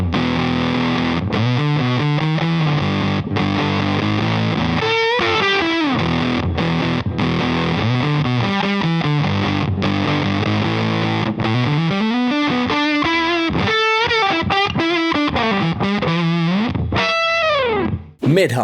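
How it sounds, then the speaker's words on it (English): Fuzz Face style fuzz on electric guitar, a thick, muffled tone with little treble, played as sliding, bending riffs and sustained notes that continue steadily and loudly, then cut off abruptly near the end. "Muffled can describe a really cool fuzz face type fuzz tone"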